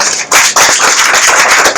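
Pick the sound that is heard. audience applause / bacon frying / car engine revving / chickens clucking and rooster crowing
audience applause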